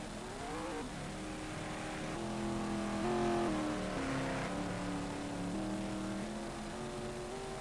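Touring race cars of about 650 brake horsepower and 1.5 tons with steel brakes accelerate on the Barbagallo circuit, several engines revving through rising and shifting gears in a loud, continuous roar.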